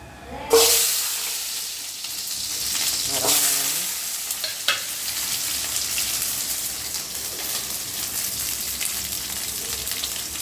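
Small onions hit hot oil for brinjal sambar with a sudden loud sizzle, followed by a couple of stirring scrapes, then a steady hissing, crackling fry that continues close by with no voices.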